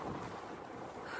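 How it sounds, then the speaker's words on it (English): Strong wind blowing on a warm, gusty day during a bike ride, a loud continuous rush buffeting the microphone for a short moment with no talk. "it is very windy"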